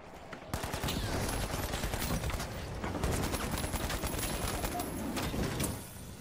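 Rapid, sustained bursts of automatic gunfire and explosions from a first-person shooter video game, heard loud and continuous over several seconds before tapering off.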